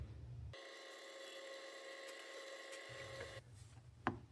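A drill boring a pin hole in an epoxy knife handle whines steadily for about three seconds, a faint high-pitched motor tone over a quiet room, followed by a small knock.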